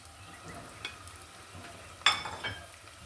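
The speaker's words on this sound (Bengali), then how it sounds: "এটা আমি ভালো করে ভেজে নিব" Chopped onion, green chili and garlic fry in a pan, a faint, low sizzle with a sharp utensil clink partway through and light stirring scrapes.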